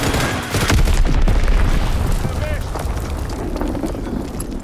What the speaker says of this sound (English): Fritz X bomb mission on the way.